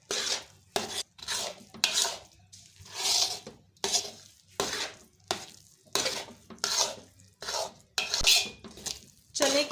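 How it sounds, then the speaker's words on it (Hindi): Grated coconut and raisins stirred into chana dal burfi mixture in a pan, with repeated scraping and clinking strokes of a spoon against metal in a steady rhythm, close and moderately loud, no talk. "इसको अच्छी तरह मिक्स कर लेंगे"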